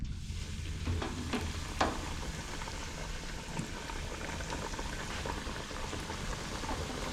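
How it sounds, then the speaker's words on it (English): Snook fillets frying in hot grease, a steady close sizzle and bubbling crackle that runs continuously with small pops, no voices over it. "this fish has officially been caught and released in hot grease."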